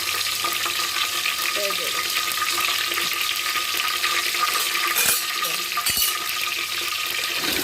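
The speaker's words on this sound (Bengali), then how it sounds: "গরম হয়ে আসলে এর ভিতরে আমি কয়েকটি তেজপাতা দিয়ে দিচ্ছি" Bay leaves frying in hot oil in a pan while beef curry is cooked, a continuous close sizzle with a couple of brief knocks near the end.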